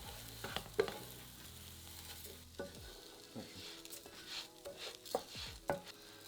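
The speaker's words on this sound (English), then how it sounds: "add that rice in and stir until the oil has coated the rice" Arborio rice stirred through hot oil in a pan for leftover turkey risotto, with soft scraping spoon strokes, light clinks against the pan and a faint sizzle underneath, close and quiet.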